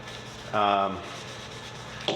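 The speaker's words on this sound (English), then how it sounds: "You just rub it in, put on as much as the wood will take, and then you wipe it dry after that." A cloth rubs food-safe mineral oil into a wooden spoon, giving one short soft rasping rub under a quiet background.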